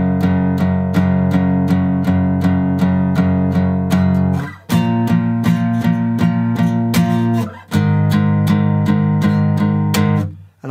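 Guitar plays a song's chord line slowly, steady picked chords in an even pulse with chord changes every few seconds, loud and close with no voices.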